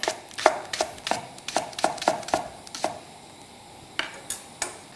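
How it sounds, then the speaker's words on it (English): Knife slicing a clean leek thinly on a cutting board, a quick run of about a dozen sharp, close chopping taps in steady rhythm, then a pause and a few more cuts, no talking. "so just slice it reasonably thin"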